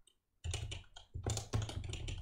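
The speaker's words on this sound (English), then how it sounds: "Enjoy the keyboard ASMR instead" Computer keyboard typing in bursts of rapid clicks and clacks, close and fairly loud, with a short pause partway through and no talking.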